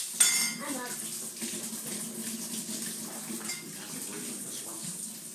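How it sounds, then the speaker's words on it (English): Measuring spoons rinsed under a running tap during home baking: metal spoons clink and rattle against each other and the sink at the start, then water runs steadily beneath light handling noises, close by. "Addie's just rinsing our spoons quickly"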